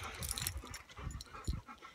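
Dogs panting with faint whimpers at a house sit on a farm, a soft uneven breathing rhythm close by with small bumps and rustles throughout.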